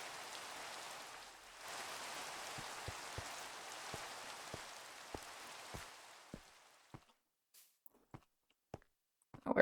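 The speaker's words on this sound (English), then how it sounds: "I could only hear the rain" Steady hiss of rain in a retro-styled solo survival video game, with soft scattered drop ticks over it; the downpour fades out after about seven seconds, leaving only a few isolated taps.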